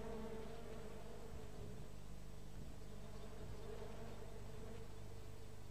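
A swarm of flies over a lake makes a continuous, even buzzing drone, fairly close and filling the whole stretch without any talk.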